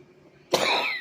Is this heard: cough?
yes